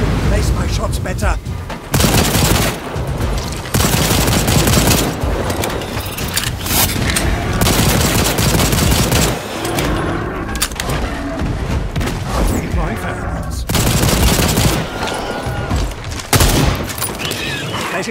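Gunfire in the dinosaur-hunting shooter game Second Extinction, loud repeated shots and booming blasts in bursts across a dense, busy game soundscape, with a voice talking over it.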